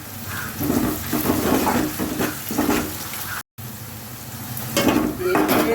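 Chopped green chillies fry in a pan, a loud steady sizzle with bursts of stirring and scraping that rise and fall throughout, nearby and without talk.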